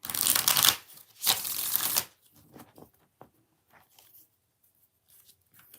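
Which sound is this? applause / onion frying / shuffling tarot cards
shuffling tarot cards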